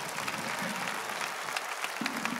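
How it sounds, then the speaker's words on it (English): At the 1972 Wattstax summer festival in Los Angeles, a large outdoor crowd claps in a steady, dense roar of applause, with faint voices and scattered shouts mixed into the clapping throughout. "Let's give Tommy a big round of applause"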